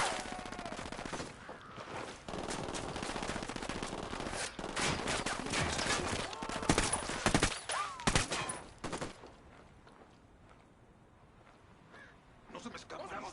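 Video-game gunfire in Ghost Recon Wildlands, with rapid bursts of automatic rifle fire and sharp single shots crackling over a steady mix of sounds, a voice speaking between the volleys.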